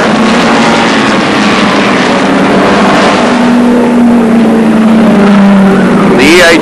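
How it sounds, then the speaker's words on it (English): Ford Mustang race cars at Oran Park, loud engines roaring and revving as they pass, with a commentator's voice running over the continuous motor noise. "A lot of power from these Mustangs"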